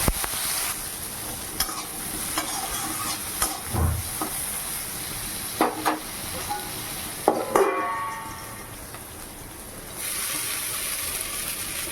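Brinjal fries in a pan with salt and turmeric after black cumin and dried chilli: a steady hiss of oil runs throughout, broken by sharp spoon-on-pan scrapes and clacks of stirring, with no voices.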